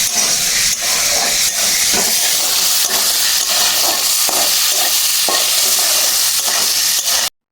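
Boiled potato pieces cut like paneer fry in hot oil with a loud, continuous sizzle, punctuated by light scraping as they are stirred, before the sound cuts off abruptly.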